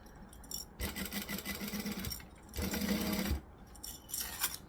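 Sewing machine stitching in two bursts, running forward then reversing for a back stitch, with a short pause between runs and a few quieter clicks of handling the fabric afterward.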